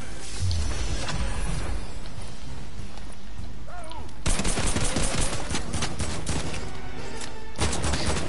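Rapid automatic gunfire in the video game Fortnite during a Team Rumble match, with bursts of shots crackling over a busy background and growing louder and denser in the second half.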